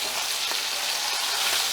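Spatchcock chicken sears skin-side in a hot pan, giving a steady, dense crackling sizzle that holds at an even moderate level throughout with no talking.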